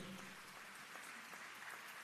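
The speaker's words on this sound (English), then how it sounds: "please put your hands together and give all of them yet another round of applause" Audience applause at a graduation ceremony, a steady wash of clapping from a crowd that continues evenly throughout, faint and somewhat distant.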